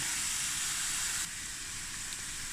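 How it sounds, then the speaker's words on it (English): Steady broadband sizzling hiss of onions frying in a pan, continuous and close, dropping slightly in level halfway through. "while the onions is frying"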